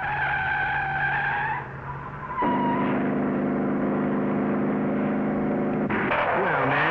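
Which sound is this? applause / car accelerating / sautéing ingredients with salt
car accelerating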